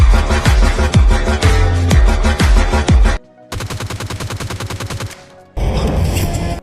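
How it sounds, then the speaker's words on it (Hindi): SCAR-L assault rifle fire in PUBG Mobile Lite, loud rapid bursts of game gunfire in three separate runs, the middle one a fast even rattle, with no talking. "अब भाई ये आपको स्कारल की आवाज आ रही है?"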